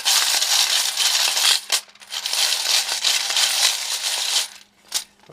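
Handful of coins poured into a Royal Sovereign coin sorter, a dense continuous metallic clatter and jingle for about four seconds, a brief pause, then a short final rattle; close and fairly loud, no talk.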